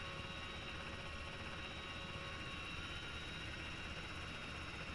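Transport helicopter landing in ARMA 3, its rotor and turbine drone steady and continuous, faint and alone with no talk.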